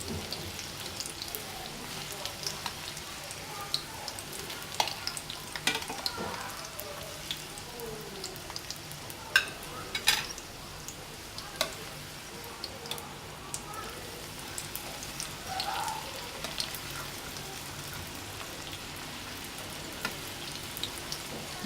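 Spring rolls frying in very hot oil, a steady close sizzle full of popping bubbles running throughout with small crackles and no talking.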